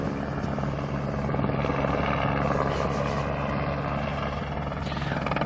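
A helicopter flies nearby during an avalanche-control blasting operation, its door open for dropping explosives, producing a loud, steady rotor and engine drone that holds throughout with no talk.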